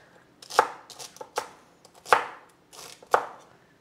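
Celery is sliced thin with a knife on a cutting board, giving four or five crisp, distinct chops at an irregular, unhurried pace, close and clear with no talking.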